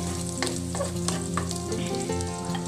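Garlic sizzles and fries steadily in a hot pan for a Kapampangan kilayin dish, a dense continuous crackle with a few sharper pops and stirring scrapes, close and fairly loud with no talking.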